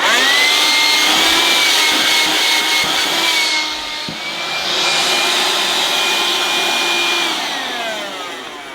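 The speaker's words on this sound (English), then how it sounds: "it's got that unmistakable noise of a sort of an earlier cordless machine with Nikon batteries" Vax Kone cordless vacuum cleaner with older nickel-type batteries running steadily and loudly, a whining motor hum with high tonal drone that dips briefly midway then holds, close and alone.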